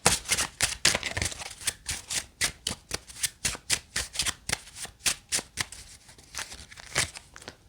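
A deck of tarot cards is shuffled repeatedly up close, a steady series of crisp riffling flutters and soft slaps with no talk.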